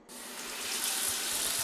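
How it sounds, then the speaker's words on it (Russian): Water gushes from a bathtub tap, starting abruptly and running as a steady close hiss that grows slightly louder over its short length, with no talk. "Берем воды немного."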